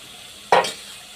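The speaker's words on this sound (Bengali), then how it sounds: "এখন আমি হালকা আছে মশলাগুলোকে আমি কষাতে থাকবো।" Spice paste for egg curry sizzling in a pan as it is sautéed, one brief burst of stir-fry hiss rising out of a quiet background.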